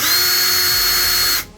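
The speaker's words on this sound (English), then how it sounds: "And then we're just gonna drill our hole far down as we can." A power drill fitted with a 5/32 bit bores steadily into a hole, whirring loud, close and continuous for over a second before stopping abruptly.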